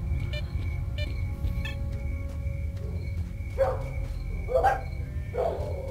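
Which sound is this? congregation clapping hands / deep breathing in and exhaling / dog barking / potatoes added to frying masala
dog barking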